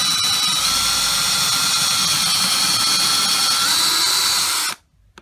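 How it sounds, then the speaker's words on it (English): A power drill whines steadily as it bores into a 2x4 wood board, loud and close for nearly five seconds before the motor cuts off abruptly. "you want to drill just into that piece of wood"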